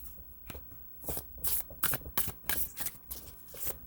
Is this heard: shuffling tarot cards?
yes